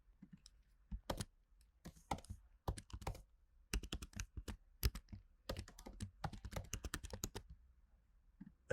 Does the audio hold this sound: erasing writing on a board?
no